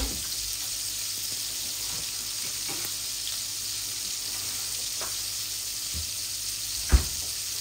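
Cumin seeds frying in hot oil for a curry, a steady soft sizzle running without a break, with one brief louder clink or tap near the end and no voices.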